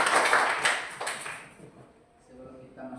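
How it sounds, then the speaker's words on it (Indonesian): Audience applause in a Christian religious institute classroom in Ambon, a burst of clapping that fades out over a couple of seconds before a voice begins speaking. "Kita berikan tepuk tangan yang meriah"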